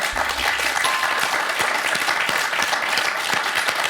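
A short burst of steady clapping from a contestant on a TV quiz show after a correct answer, fairly close and loud, continuous for about four seconds.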